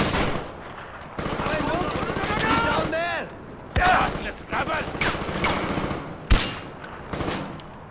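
Gunfire from the video game Far Cry 4, sharp repeated shots and bursts mixed with voices and game noise, close and fairly loud, with a loud impact near the end.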